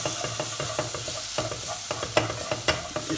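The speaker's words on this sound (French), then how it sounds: "maintenant je vais rajouter mon cumin et mon paprika" Cumin and paprika fry with onion in a pan for kefta kebab with aubergines, a close, steady sizzle under frequent scraping stirs of the utensil, with no voices.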